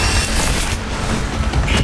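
An Incendio fire spell cast in a Wizarding World video game gives a short, loud whooshing burst with a dull boom, roaring briefly and then fading.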